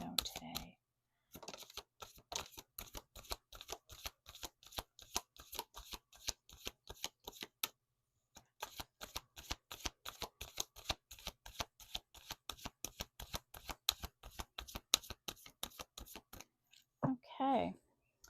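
An Elemental Oracle card deck shuffled by hand, quick repeated crisp card snaps in long runs with a short pause midway, close and quiet, with brief speech at the start and end.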